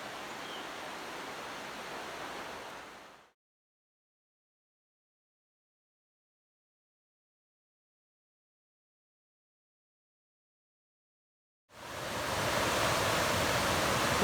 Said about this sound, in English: This is the Housatonic River.